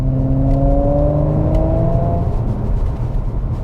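Audi RS4 Avant B9 engine pulling hard under acceleration, a loud, close, steady mechanical drone with a rising whine that climbs for about two seconds, then settles into rumbling road noise.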